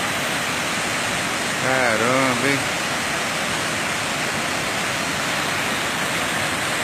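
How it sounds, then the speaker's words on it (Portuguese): Cachoeira da Fumaça waterfall in Alegre, Espírito Santo, Brazil, a loud continuous roar of falling water, with a voice briefly speaking over it partway through. "Olha essa queda d'água aí, ó."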